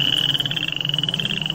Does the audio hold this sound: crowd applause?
no